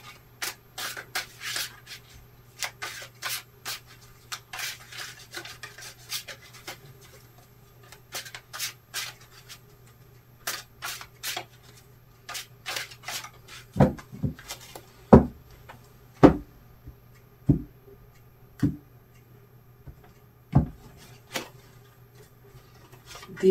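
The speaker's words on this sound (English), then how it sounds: "I just need to shuffle a little bit more." Tarot cards riffle and slide against each other in quick, soft bursts, followed by a few sharp taps as the deck is squared, all fairly close.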